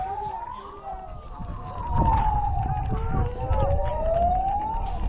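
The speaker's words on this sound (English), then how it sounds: "I can hear a siren in the background" An emergency siren wails in the background near the finish of a mountain ultramarathon, its tone gliding slowly up and down over crowd noise and commotion that swell louder midway.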